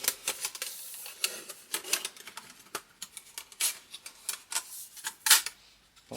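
Rapid, irregular light metallic clicks and taps sound up close as the legs of an aluminium camping table are folded in and popped into place, fairly quiet, with no talking.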